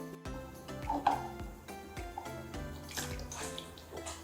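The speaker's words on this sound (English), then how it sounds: "Do you want to put some water in the veggie pod and feed our plants?" Water is poured into an indoor veggie pod planter to feed the plants, making an irregular splashing, trickling sound with a few louder pours, close by and with no talk.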